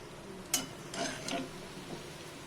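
Shankarpali frying in hot oil and being stirred, a faint steady sizzle broken by a few soft scraping clinks of the spoon against the pan.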